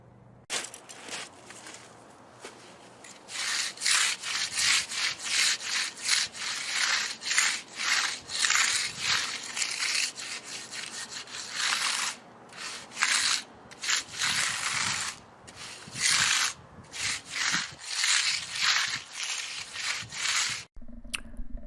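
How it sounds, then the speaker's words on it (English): A mag float rubs across the edges of fresh concrete in repeated rough scraping strokes, steady and close, with short pauses between passes. "now for that tool I'm using, that's called a mag float, and we always mag float the edges first"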